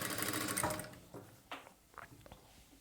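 A sewing machine stitches a long hem on a plain blouse, starting with a steady continuous run for about a second, then fading into a few short separate bursts and clicks at moderate, fairly close level.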